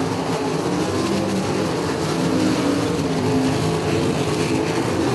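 Sprint cars racing side by side down the backstretch at Atomic Speedway in an All Stars event, a steady, loud engine roar that holds without a break for the whole stretch, with no voices.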